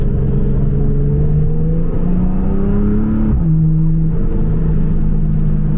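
A Porsche 991.2 Carrera S engine with a Stage 2 tune revs steadily and loudly nearby, its pitch rising and falling in a throaty, continuous drone.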